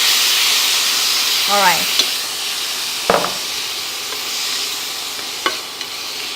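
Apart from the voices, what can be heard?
kimchi sizzling as it is stir-fried with garlic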